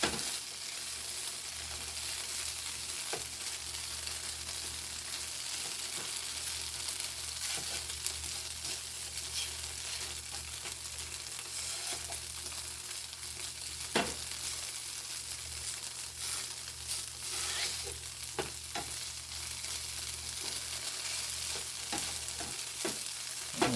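Tofu scramble browning in a pan, a steady close sizzle with occasional stirring scrapes and soft clicks of a utensil against the pan, continuing without talk.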